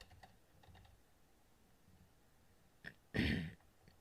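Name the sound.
typing on a computer keyboard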